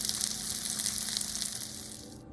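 Potatoes coated in butter fry in a lidded pan, giving a steady, close, bright sizzle that holds evenly throughout with faint crackles, cutting off abruptly at the very end.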